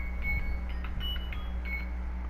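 A quiet electronic timer beeps in a short repeating series of soft chirps over a steady low hum in a room, with no talking.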